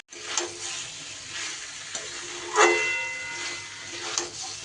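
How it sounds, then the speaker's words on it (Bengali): Fried potatoes and pointed gourd being stir-fried with chana dal and spices, a soft steady sizzle broken by a few spoon scrapes and one stronger hissing burst near the middle, no talking. "এবার দিয়ে দেব আলু আর পটল ভেজে রাখা, এগুলোও ডালের সাথে ভালো করে কষিয়ে নিই।"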